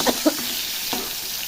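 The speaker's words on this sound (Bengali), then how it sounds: "সবজিগুলো সব ভাজছি" A soft, steady sizzle of cauliflower, tomato and pumpkin frying with salt and turmeric in a pan, with a few light clinks and stirring sounds, nearby and without talk.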